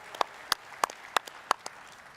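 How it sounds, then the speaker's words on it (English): Scattered hand claps from a conference audience at the Bitcoin 2022 event, about half a dozen sharp, separate claps spaced through the moment in a quiet hall. "please welcome them with a big round of applause"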